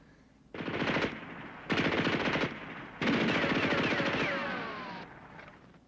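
Machine gun fire from a 1962 WWII television drama rattles out in three long bursts separated by short gaps, fairly loud and close, with no talking over it.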